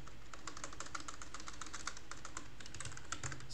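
Rapid, continuous typing on a faulty computer keyboard as a long password is entered, with dense clattering keystrokes heard close up over a low background hum and no voices.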